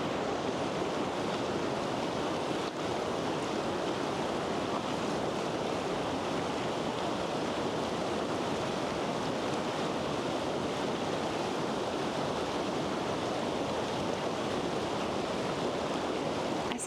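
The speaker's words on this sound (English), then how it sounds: "listen to the sounds of the river" An outdoor river rushes in a dense, constant wash of flowing water, loud and unbroken throughout with no voices.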